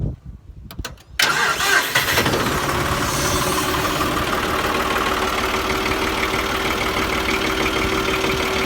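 Engine cranking and firing up after a hydraulic filter service, then settling into a steady, close, loud idle with a constant hum and faint knocking texture.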